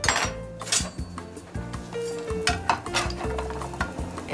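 Egg frying in a pan of hot oil, a steady sizzle with stirring, scraping and clinks of pots and utensils throughout, fairly close and busy.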